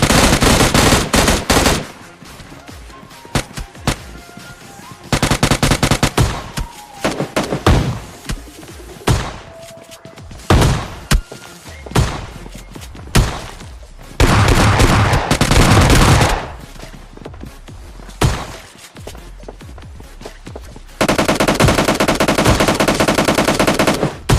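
Rapid automatic M16 rifle fire from PUBG Lite gameplay, several loud close bursts of machine-gun-like shots separated by short pauses, with longer sustained volleys toward the end.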